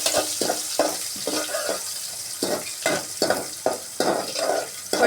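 Onion added to hot oil with garlic, for a mixed vegetable dish, fries with a steady sizzle broken by repeated stirring scrapes in an uneven rhythm, close and fairly loud.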